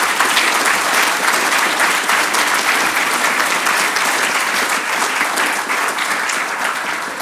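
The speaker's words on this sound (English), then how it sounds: "So I think it's worth giving those guys a big round of applause because they deserve it." A conference keynote audience gives a sustained, dense round of applause that fills the room. The clapping stays steady and loud throughout and tapers only slightly toward the end.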